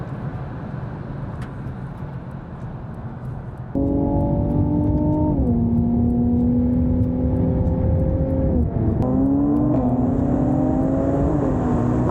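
A tuned Mercedes C43 AMG accelerates hard in a drag race, heard from inside the car as a loud, steady engine drone that rises through the gears with several shift dips.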